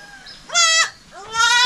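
A goat giving birth lets out two loud, close bleats, one short cry followed by a longer drawn-out one, with a brief quiet gap between them.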